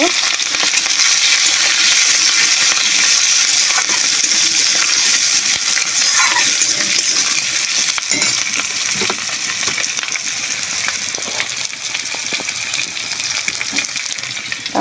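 Slit green chilies and onion stalks hit hot oil seasoned with five-spice tempering, giving a loud, dense, steady sizzle that crackles on without a break and with no talking.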